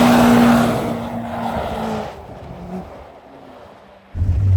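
A BMW M5 slides sideways through track corners in an all-wheel-drive test, its engine roaring close and loud at first, then fading, with brief tire squeal and a renewed burst of engine noise at the end.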